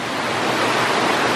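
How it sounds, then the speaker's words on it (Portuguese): A waterfall in the Ponte Nova area of Palmeiras de Goiás roars with a dense, steady rush of falling water, loud and close, with no other sounds. "E finalmente encontrei aqui outra cachoeira na região da Ponte Nova."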